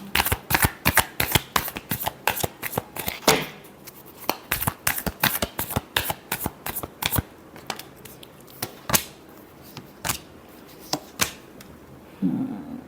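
A deck of tarot cards is shuffled by hand in a series of sharp, crisp riffles and snaps, quick clusters followed by sparser flicks, close and clear with no talking.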